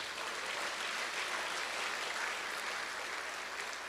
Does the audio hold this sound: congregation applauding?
yes